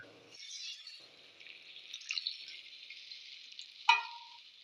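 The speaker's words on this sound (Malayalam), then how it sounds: "അപ്പോൾ ഇതിലേക്ക് നമ്മുടെ മസാല വെള്ളം ഒഴിച്ചു കൊടുക്കുക" Masala water hits a hot frying pan for a fish curry, giving a continuous close hiss and sizzle with a sharp clatter near the end.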